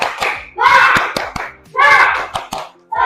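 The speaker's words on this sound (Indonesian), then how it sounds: "Tepuk semangat." Children perform a rhythmic spirit clap in a classroom before group presentations, sharp hand claps in quick patterned bursts mixed with loud chanted children's voices, close and lively.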